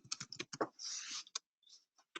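Quick bursts of keystrokes on a computer keyboard as a city name is entered, faint close clicks in short uneven runs separated by brief pauses.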